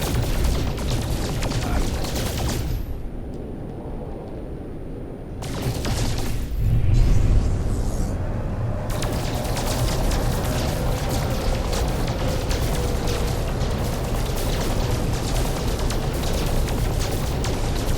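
Shots fired at asteroids to mine them in No Man's Sky, a rough sustained blasting and rumbling with bursts, a brief quieter gap partway through, then continuous crackling impacts.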